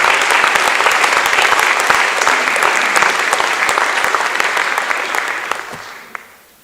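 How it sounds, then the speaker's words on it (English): At an athletic awards banquet, the room fills with loud, sustained applause from many hands that holds steady, then fades out over the final seconds, leaving a lone last clap. "Let's give them a round of applause."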